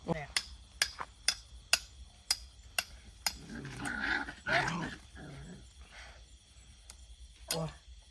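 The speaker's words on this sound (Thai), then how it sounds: "ตอนนี้มีหมากัดนิ้วคนด้วยนะคะ" Dog growling and snapping at a person's finger at a roadside campsite, with sharp repeated knocking or hammering impacts early on, then close growls mixed with people talking.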